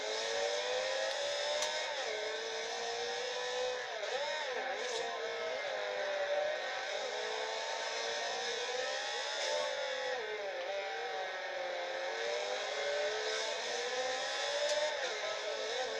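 A car engine in a Forza Horizon 2 street race holds a steady, sustained whine with slight rises and dips in pitch, faint and continuous with no talking.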